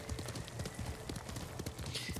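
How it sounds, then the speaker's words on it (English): Hooves of a galloping horse in Ghost of Tsushima, a steady rapid clip-clop running throughout at close range, loud and continuous with game ambience beneath. "Call the horse. Horse is running."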